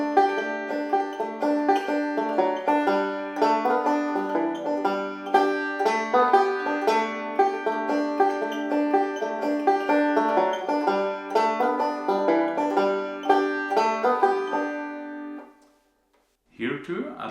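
A banjo plays a lesson etude built on forward rolls with some backward and square rolls, a steady stream of bright picked notes for about fifteen seconds before it rings off, with a brief sound at the very end.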